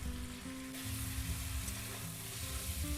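Potatoes and tomato sautéing in a pan of meat curry (kosha mangsho) give a steady, loud sizzle and fry with a faint low hum underneath, continuous throughout with no talk.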